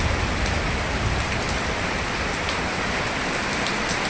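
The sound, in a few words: heavy rain pouring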